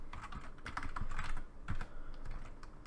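Someone types code on a computer keyboard with quick, close, clattering keystrokes in short bursts and no speech.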